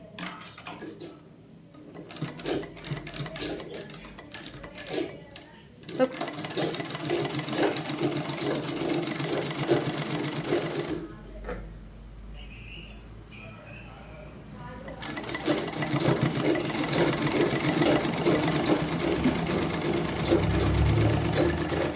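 A sewing machine stitches piping onto fabric in close, rapid rhythmic bursts that stop and restart several times, with brief quieter pauses between runs.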